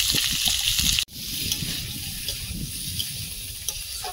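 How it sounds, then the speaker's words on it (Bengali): Carrot and yardlong beans sizzle steadily in hot oil with a little salt, a sharp knock near the start, then a continuous close frying hiss with faint stirring. "সবজিটা ভাজা ভাজা হয়ে এসছে"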